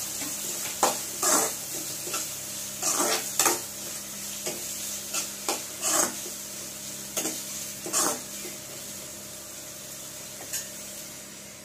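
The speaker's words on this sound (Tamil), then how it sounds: "வெங்காயம் நல்லா வணங்கட்டும்" Onions sautéing in a pan for paneer butter masala give a soft, steady sizzle, broken every second or so by scraping stirs of a spoon against the pan, close by with no talking.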